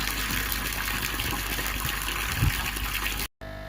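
Water pours steadily into a garden koi pond lined with a joined liner, a constant, loud gushing rush with a brief splash before cutting out abruptly near the end.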